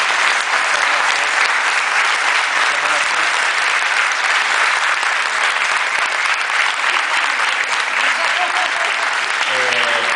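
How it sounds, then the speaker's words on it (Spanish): Sustained applause from a festival audience for Argentine director Pablo Giorgelli, presenting his film Las Acacias, a dense, even wash of clapping filling the room without pause. "pido un fuerte aplauso"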